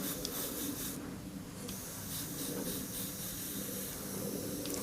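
An airbrush spraying paint while sketching final details on a pinup girl painting gives a steady, close, continuous airy hiss with no pauses throughout.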